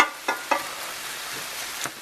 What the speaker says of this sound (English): pulverize it with the end of the spatula. Just chop it into small pieces here.